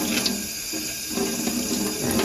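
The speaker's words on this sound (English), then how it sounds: "This is just some plain tap water. And run it through." Plain tap water runs steadily from a faucet over yarn dyed with Kool-Aid as it is rinsed, a continuous splashing rush at moderate volume.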